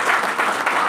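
A crowd at a gathering breaks into sustained applause, dense steady clapping that fills the space, loud and continuous with no voices standing out.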